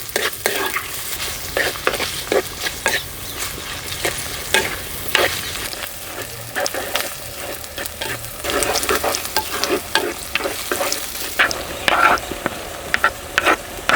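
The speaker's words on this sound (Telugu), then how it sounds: "ఉల్లిపాయలు పచ్చిమిరపకాయలు వేగాయండి" Chopped onions and green chillies frying in hot oil in a pot, a steady close sizzle broken by frequent scraping clicks of stirring, no voices.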